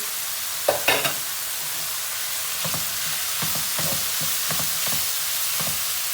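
Mushrooms sautéing with chicken in a pan, a constant frying hiss under repeated rhythmic stirring scrapes, a louder clatter near the start, close and without voices.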